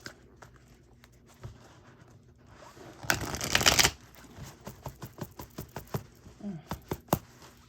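Tarot cards split and riffle-shuffled by hand: quiet taps and slides, then a loud dense burst of riffling, followed by a run of sharp card taps and snaps as the deck is squared, close and alone.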